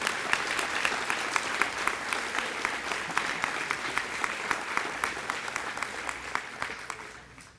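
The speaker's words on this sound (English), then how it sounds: "Please give them another round of applause." Applause at a school district recognition banquet, many hands clapping steadily with distinct sharp claps standing out, sustained for several seconds before fading at the end.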